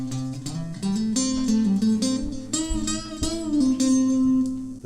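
Electric guitar plays the second part of the riff from a song, a run of quick picked and hammered notes with pull-offs, loud and close and alone.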